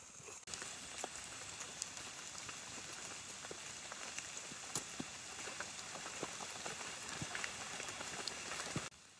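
Steady rain pattering in a forest during mushroom foraging, a dense continuous hiss with scattered sharp drop ticks, moderately faint and without talk.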